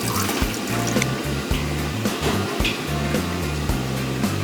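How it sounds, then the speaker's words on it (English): Milk, a whole gallon, pours from a jug into a pot for champurado, giving a steady gurgling, glugging splash up close with rhythmic low pulses throughout. "1 gallon of milk. All of it. Throw it in there. The whole gallon."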